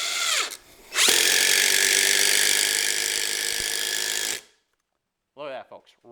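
A Hercules impact driver sinks a screw with no pilot hole in a loud, continuous rattling burst lasting about three seconds, then stops abruptly, followed by brief talk.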